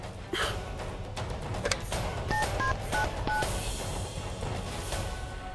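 A telephone number is dialed, a quick series of separate keypad tones, four or five beeps, over a faint hiss of room noise with no talk.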